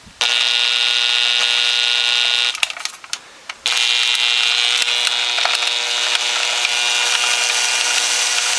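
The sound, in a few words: pulse width modulated drill running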